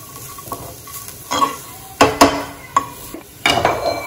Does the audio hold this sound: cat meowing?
no